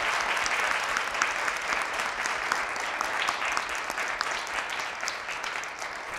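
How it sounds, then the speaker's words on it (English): An audience at an evening author talk and book event gives a sustained round of applause: a thick, even roar of many clapping hands that continues for the full six seconds, with brief spoken thanks faint underneath. "So join me in a round of applause."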